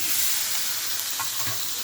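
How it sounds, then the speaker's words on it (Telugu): Coconut pieces and curry leaves frying in hot oil in a pan, giving a dense, continuous close-up sizzle with a couple of soft stirring knocks near the end. "కొబ్బరి ముక్కలు, కరివేపాకు కూడా వేసుకుంటున్నాం"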